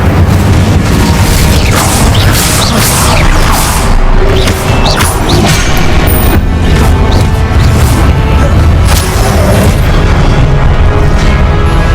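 Confringo blasting-spell explosions in Hogwarts Legacy, mixed with other combat spells: a dense, loud, continuous barrage of booms and crashing impacts with no pause.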